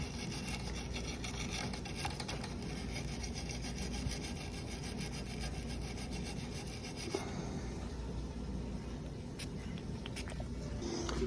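An old double barrel 10-gauge shotgun's wooden stock is scrubbed and cleaned with steady, fast, rasping strokes, a faint, continuous brushing close by.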